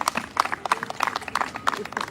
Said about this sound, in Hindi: कलाकारों के लिए जोरदार तालियां हो जाए।